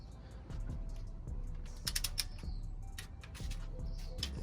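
Torque wrench clicking as it tightens LS engine cylinder head bolts in a set pattern, with several sharp ratcheting clicks and metallic ticks spread over a low shop hum, fairly close and moderately loud.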